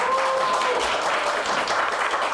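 A conference audience applauds a group of four teams, steady dense clapping filling the room throughout with a faint tone lingering early on.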